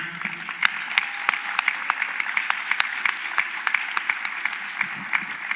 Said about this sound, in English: Big clap, applause to our moderator, Terry.